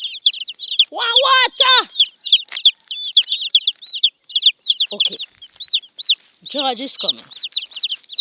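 Chickens in a basket cluck and chirp in quick, repeated high calls at close range, with a person talking over them at intervals.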